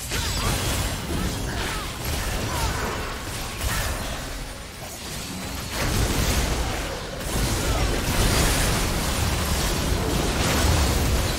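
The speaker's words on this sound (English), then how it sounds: "His turret has been destroyed." Explosions and crashing destruction from a turret going down in League of Legends, a dense, loud wash of booms and debris that swells and dips across the passage with no clear break.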